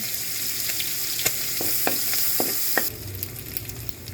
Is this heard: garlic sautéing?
yes